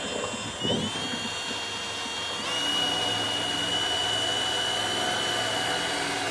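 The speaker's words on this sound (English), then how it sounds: "being at an angle, the drill won't eat right" A cordless drill bores at an angle into a trailer while fitting a round marker light. It whines steadily and close up, and its pitch rises partway through as the bit bites.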